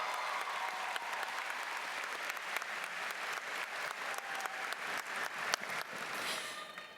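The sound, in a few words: applause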